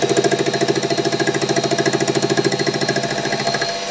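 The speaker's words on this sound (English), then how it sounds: "on this flywheel we're actually having quite a few interrupted cuts as the outside surface isn't concentric on this flywheel" A metal lathe takes interrupted cuts across a non-concentric Stuart S50 steam engine flywheel, giving a loud, rapid and even chattering pulse that carries on steadily and softens slightly near the end.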